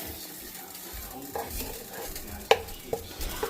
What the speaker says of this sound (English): So I've got the garlic in there. And stir this up.